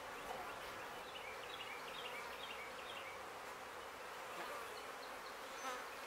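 Honey bee colony in an open hive with frames full of nectar and larvae, giving a steady, dense buzzing hum, close and continuous throughout with no talk.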